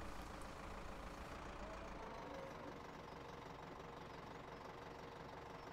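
A heavy vehicle engine in Farming Simulator 2017, a constant low rumbling drone with a knocking undertone that holds steady throughout and comes across as old heavy equipment.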